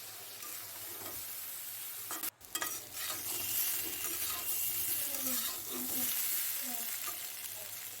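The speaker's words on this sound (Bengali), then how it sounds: "তো হালকা আছে, এটাকে আমি বেশ কিছুক্ষণ ধরে এখন কষিয়ে নেব।" Spice paste and vegetables sautéing in a wok for a rohu fish curry with green banana and potato, a steady sizzle with repeated scraping stirs and a brief clatter early on, close and continuous with no talk.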